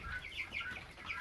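Several chickens cluck softly in a quick, irregular series, fairly faint and close together, with no talk.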